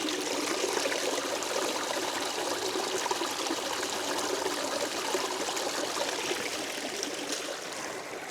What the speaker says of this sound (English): there's actually a lot of great fast flowing water here